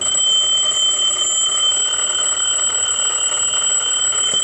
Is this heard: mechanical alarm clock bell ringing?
yes